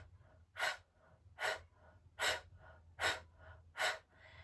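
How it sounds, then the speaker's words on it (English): Five forceful, deliberate exhales from a meditation breathing exercise, each a sharp, close, breathy blow at an even rhythm with quiet inhales between. "the exhale is going to be an intentional blow breath"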